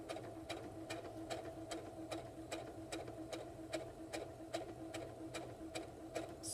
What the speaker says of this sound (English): Put the presser foot back down. Take out my pin. And start sewing again.